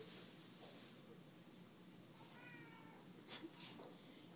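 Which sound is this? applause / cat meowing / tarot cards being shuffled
cat meowing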